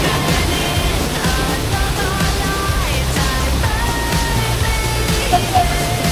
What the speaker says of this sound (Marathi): आम्ही धबधब्याच्या खाली आलोय बघा, वरून धबधबा धबधब्याच्या खाली आहे बघा